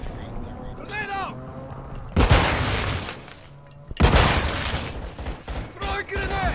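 In a Warzone match, heavy booms of a grenade blast and gunfire erupt twice amid excited player chatter, loud and close, with voices talking over and between the bursts.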